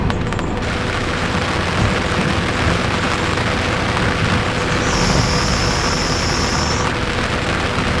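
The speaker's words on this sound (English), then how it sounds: "It's raining now, I feel it." Rain falling on a sailboat at sea off Trinidad, a steady, dense hiss of drops spread over a constant low rumble that holds for the whole stretch.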